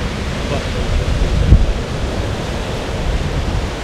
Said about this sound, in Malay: Ombak pun kuatlah mana ni, hebat juga ombak dia.